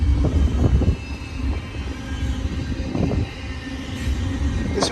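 A BNSF freight train climbs toward Cajon Summit, giving a steady low rumble of rolling cars and engines with some rising thumps and faint higher squeals, continuous throughout.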